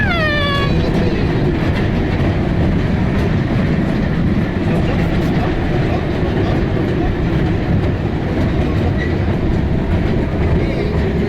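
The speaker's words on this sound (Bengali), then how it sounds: "আরিশা ট্রেনে উঠেছে।" On a mini train ride at a zoo in Savar, a loud, steady rumble and rattle of the moving carriages fills the whole stretch, opening with a brief high, wavering whistle-like cry.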